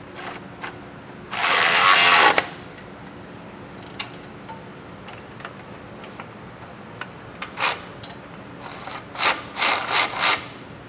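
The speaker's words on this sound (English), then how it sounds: "I'm taking a 14mm socket and wrench, and I'm gonna get these 4 tightened down as well." 14mm socket wrench ratcheting while tightening bolts on a Blue Ox base plate kit for a 2022 Ford Ranger, a long buzzing ratchet burst early, then scattered clicks and a quick series of short ratchet strokes near the end.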